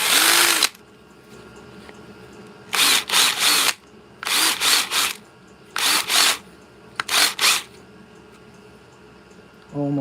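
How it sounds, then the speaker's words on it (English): A pen reamer chucked in a drill reams a wooden pen blank in repeated short bursts, each a quick run of buzzing spins separated by quiet pauses. "So that's pen reamer when you do your blank."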